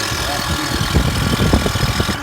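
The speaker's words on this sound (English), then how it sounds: "2006 Toyota Highlander alternator whine" A 2006 Toyota Highlander engine runs close up with an alternator whine, a steady mid-pitched hum under a low idling rumble with uneven throbbing, while a voice speaks over it.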